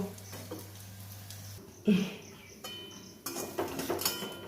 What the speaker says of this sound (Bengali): বড়াগুলো উল্টিয়ে নেব।